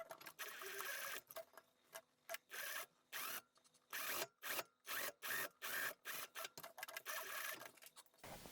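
Sewing machine stitching a hem beside a fold line on a summer dress, heard as short faint stop-start runs of stitching separated by brief pauses, no voices.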